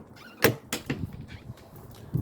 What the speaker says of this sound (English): All right off the bat, you do have a screen door.